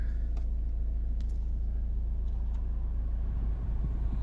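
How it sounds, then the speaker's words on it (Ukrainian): Engine of a 2012 Volvo V50 idling steadily with a deep, constant rumble as the air-conditioning compressor cuts in, the idle lifting slightly, with a few faint clicks on top. "Чуть як включився компресор, трішки стрілка піднялася обертів."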